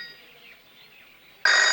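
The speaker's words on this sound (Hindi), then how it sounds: "फोन।" After a quiet stretch, a loud electronic telephone ring bursts in and continues steadily at close range.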